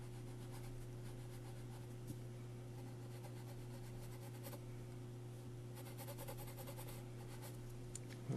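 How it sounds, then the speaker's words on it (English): Pencil sketching eyebrows on a portrait drawing, a faint, continuous scratchy rubbing over a steady background hum. "Just drawing some eyebrows here."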